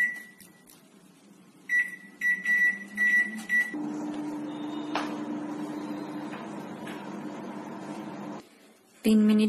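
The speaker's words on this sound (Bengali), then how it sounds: "এরপর আমরা এটাকে মাইক্রোওয়েভে ফুল পাওয়ারে 3 মিনিটের জন্য সেদ্ধ হতে দিয়ে দেব" A microwave oven cooking pasta at full power: a string of control-panel beeps, then a steady electric hum as it runs, stopping before another short beep.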